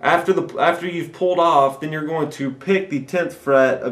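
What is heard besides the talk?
No everyday noises stand out.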